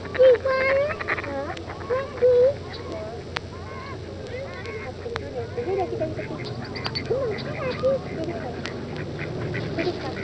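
Ducks quack and honk repeatedly around park duck ponds in Victoria, BC, with scattered calls over a busy outdoor background.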